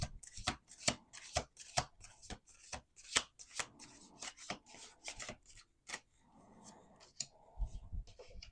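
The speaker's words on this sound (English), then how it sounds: "Okay, one more shuffle" Playing cards being shuffled in a series of quick riffles and snaps, close and crisp, with no talking.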